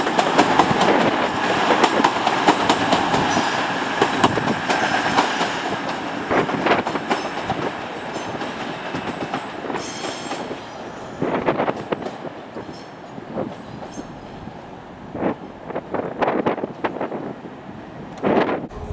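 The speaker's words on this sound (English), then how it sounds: "the next train to pull in is going to be 1 Echo 36, 1420 cross-country service from Reading to Newcastle." A Class 220 cross-country train on the Reading to Newcastle service pulls into York station, its engine and rolling wheels rising and falling with clicks and clatter, wind buffeting the microphone.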